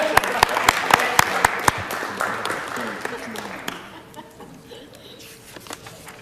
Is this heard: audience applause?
yes